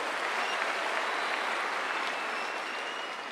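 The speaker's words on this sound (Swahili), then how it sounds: "Tumpigie rais makofi." An audience in a large stadium at a centenary celebration applauds the president, a dense, steady wash of clapping heard from a distance.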